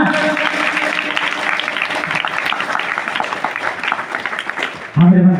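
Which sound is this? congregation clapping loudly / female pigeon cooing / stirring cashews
congregation clapping loudly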